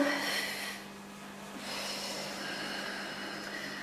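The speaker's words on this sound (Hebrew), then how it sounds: "אז בואו ניקח כמה נשימות עמוקות." A slow, deep breath drawn in and released during guided meditation, a soft airy hiss close to the microphone over a faint background hum, quiet and unhurried.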